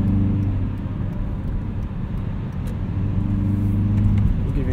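A 2016 Hyundai Veloster Turbo Rally Edition merges in fifth gear at low revs, its engine and turbo giving a steady, loud droning hum heard from inside the cabin along with road noise.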